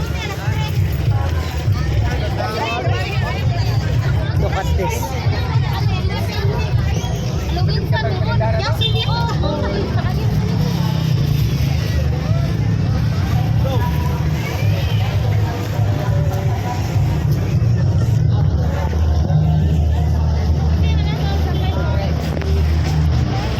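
Busy street in the Philippines with a steady roar of engines and traffic noise, people chattering nearby and a voice speaking over the constant din.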